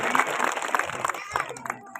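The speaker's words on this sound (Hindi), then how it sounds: "जोरदार तालियों से स्वागत करें" Applause welcoming a guest at a government middle school event in Mankawadi, a crowd clapping loosely and unevenly, moderately loud, with voices mixed in and the clapping thinning toward the end.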